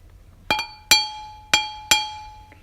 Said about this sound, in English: The aluminium pipe is kind of, I don't know, it's kind of tensile, kind of rings.